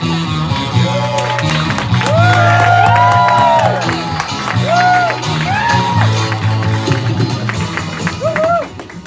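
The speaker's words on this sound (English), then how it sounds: "there were some sounds from the crowd" A live comedy show audience cheers and applauds as a comedian comes on, with dense, loud crowd noise and music running throughout, fading near the end.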